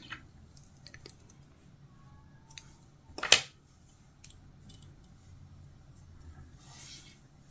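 A single crisp snip of scissors cutting crochet yarn at the end of a granny square, close and quiet, with faint handling rustles around it.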